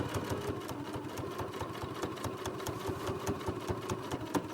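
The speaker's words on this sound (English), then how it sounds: "trying to use the distance from my presser foot to my seam here as a guide" A sewing machine runs steadily while stitching a zipper onto a gym bag, giving a fast even needle rhythm of close mechanical clatter throughout.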